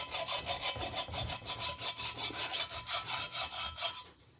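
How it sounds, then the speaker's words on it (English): Hand file rasping back and forth across an iron cylinder head, held flat to take off a high spot; a steady run of about fifteen close, even strokes, ending abruptly. "Hit it with the file again. Holding the file as flat as I can."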